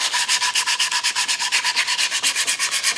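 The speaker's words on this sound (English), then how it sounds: "now we're going to just start sanding our guitar" Rhythmic back-and-forth scratch of 180 grit sandpaper on a wooden electric guitar body, about seven strokes per second, close and steady with no voices.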